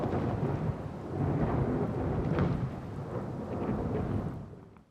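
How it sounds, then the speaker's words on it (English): Thunder rumbles through a steady downpour of rain at night, a dense, continuous wash of rain with rolling deep thunder swelling and fading before cutting off. "A huge thunderstorm continues throughout the whole night."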